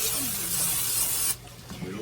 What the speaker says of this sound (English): So I'm just spraying that with olive oil.